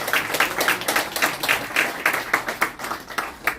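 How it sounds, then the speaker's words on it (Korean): Congregation at a Korean church emergency prayer gathering claps to welcome a pastor, the clapping falling into a steady, pulsing rhythm of sharp, evenly spaced beats from many hands together, fairly close and with no talk over it. "우리 뜨거운 박수로"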